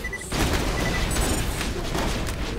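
A sudden loud blast bursts out after a short quiet beat in Borderlands The Pre-Sequel, set off on a weapon reload, followed by a rumbling, crackling tail of explosive noise.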